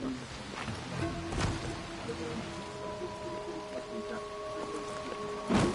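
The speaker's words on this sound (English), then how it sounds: "I like the rain effect in this game." Steady rain falls in the video game Dying Light The Beast, a continuous soft patter with a few sharper splashes, alone with no talk.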